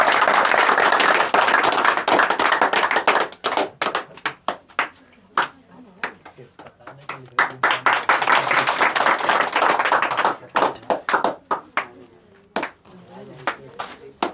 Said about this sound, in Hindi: एक जोरदार ताली इनके लिए।